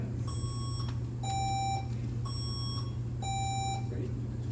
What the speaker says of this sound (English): So let's do a buzzer check.